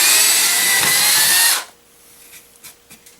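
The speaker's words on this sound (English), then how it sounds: "So this right here, we'll just drill the pilot hole." A power drill with a dull bit bores a pilot hole in metal, a loud steady whine for about a second and a half before stopping abruptly, followed by light handling clicks.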